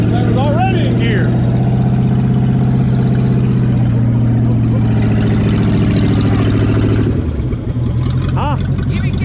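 A 1959 Ford Galaxie Fairlane 500 with a 352 V8, started for the first time in years, runs loud and close with a steady idle rumble that shifts pitch near the end, while voices talk nearby.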